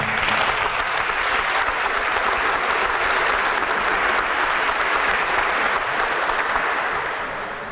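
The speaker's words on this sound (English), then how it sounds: "Let's have a round of applause." Loud, dense applause from a crowd at an Italian American Heritage Month ceremony in Cleveland, sustained evenly for several seconds and tapering slightly at the end.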